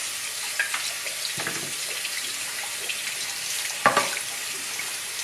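Rubber stamps are rinsed under a running tap, a steady hiss of flowing water with a couple of splashy bursts as the stamps are moved through the stream.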